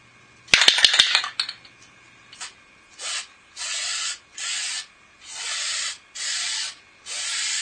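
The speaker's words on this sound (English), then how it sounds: "just give it a real quick coat of spray paint" A few quick rattling clicks from a shaken spray can, then repeated hissing bursts of spray paint, each lasting about half a second, close by.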